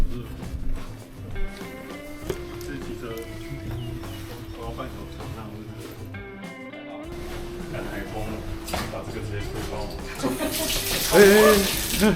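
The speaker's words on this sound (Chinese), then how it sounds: "你碰到了，你碰到水龙头了。" A bathroom tap in a guesthouse room near Qixingtan, Hualien, runs with a continuous splashing stream, partly under a voice talking, with a brief burst of louder water toward the end.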